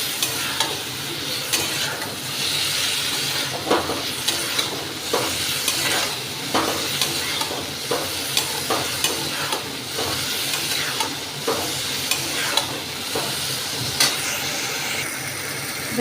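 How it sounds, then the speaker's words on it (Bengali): Ridge gourd frying in a pan, with a steady close sizzle and hiss and repeated scraping and clinking as it is stirred, with no talking. "দেখুন, ঝিঙেটা বেশ কিছুটা ভাজা হয়েছে।"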